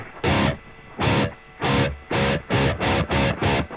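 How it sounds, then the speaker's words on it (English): Distorted high-gain guitar amp plugin modeled on a 5150 chugs in choppy bursts with its noise gate turned down, letting squealing feedback and ringing harmonics bleed between the loud, even stabs. "You get those little feedbacky noises going on there, little harmonics"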